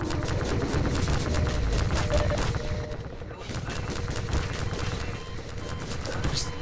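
Dense, sustained gunfire from the Half-Life 2 battle against a Strider, a rapid volley of shots running throughout with heavy low rumble and battle noise, with a voice talking over the shooting.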